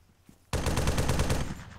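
Sustained automatic gunfire in Arma 3 (Altis Life mod) bursts in loud and close after a brief quiet lead-in, a dense rapid rattle of shots that carries on steadily before easing slightly at the end.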